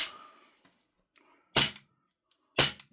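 GHK Glock 17 Gen5 airsoft pistol firing two sharp, loud cracks about a second apart, each with a brief snappy tail, after a fading mechanical rattle.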